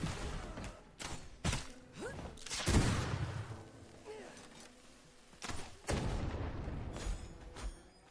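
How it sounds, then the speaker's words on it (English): Pistols fire in the video game V Rising. Several sharp shots and thuds come at an irregular pace, with brief bursts of rumbling impact between them, at a moderate level. "Trying to get used to these pistols before I get into a boss fight."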